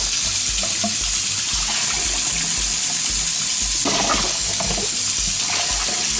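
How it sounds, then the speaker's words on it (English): Water runs steadily from a kitchen tap while rice is rinsed, a dense, continuous splashing hiss with brief brighter spatters of grains and water being stirred by hand. "you should always wash your rice."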